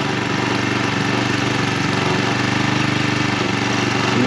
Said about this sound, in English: It cranked on the second pull.